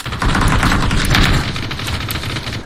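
Gunfire in the PC game PUBG, a dense burst of rapid automatic shots that is loud and continuous for a couple of seconds before easing off slightly.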